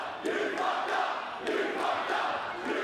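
A wrestling crowd at a tag team championship event chants in a steady, loud roar with rhythmic swells, the words blurred together and indistinct.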